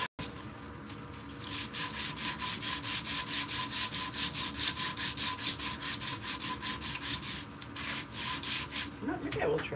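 Sandpaper rubs back and forth over a hand-forged steel spoon in a fast, even rhythm of scratchy strokes, up close, with a faint voice briefly heard at the end.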